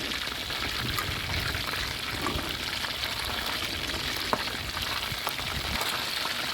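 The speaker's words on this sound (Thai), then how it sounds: "ทอดสักพักนึงนะครับ กลับไปกลับมา ให้หมูสุกเหลืองสวยแบบนี้ครับ" Battered, marinated pork belly pieces fry in oil over low heat, giving a steady, dense sizzle and crackle that holds at an even level throughout, with occasional small pops and no voices.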